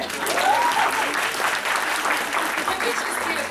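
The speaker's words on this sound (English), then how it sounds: "round of applause for that" Audience applause breaks out at a KCon fan panel, steady full clapping from a crowd for several seconds, with a voice briefly heard beneath it.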